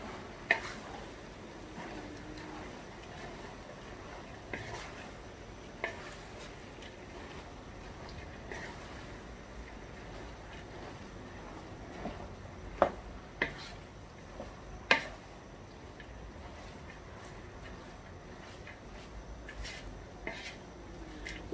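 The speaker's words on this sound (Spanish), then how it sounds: "Vamos a revolver." Diced potatoes stirred in a pot with a spoon while making Guatemalan chiles rellenos, soft scraping and occasional sharp clinks against the pot, fairly quiet and sparse, with faint background noise.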